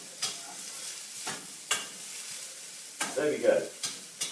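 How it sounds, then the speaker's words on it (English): Chilli pieces fry in a pan with a soft steady sizzle, broken by several sharp stirring scrapes, and a brief spoken remark. "Those can continue to fry, probably for something like, I don't know, 2 minutes"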